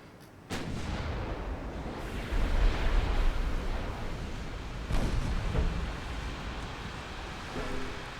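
Warship guns firing in the naval combat game Ultimate Admiral Dreadnoughts: a loud booming report opens, followed by heavy rolling rumble and a second salvo midway, with no talking.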